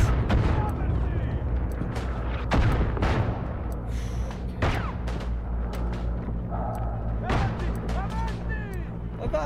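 Dense battlefield explosions and gunfire from the WW1 shooter Isonzo, with repeated loud blasts and cracks layered over a constant rumble and a voice talking through it.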